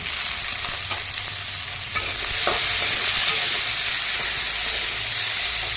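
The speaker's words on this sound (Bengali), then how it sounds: "সব সবজি আমি চাপা দিয়ে সেদ্ধ করবো, হালকা করে নাড়বো।" Mixed vegetables for fried rice are stirred in a hot pan, giving a close, steady sizzle and hiss. Scraping strokes of the stirring come through clearly, and the frying swells a little louder partway through.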